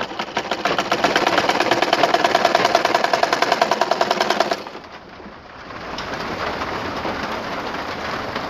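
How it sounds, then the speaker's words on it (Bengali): Sewing machine stitching folded cloth for a Quran cover, a rapid, even mechanical rattle running loud and close for several seconds before stopping, followed by quieter handling noise. "এভাবে আমরা কাপড় এরকমভাবে ভাঁজ দিব আর সেলাই করে যাব।"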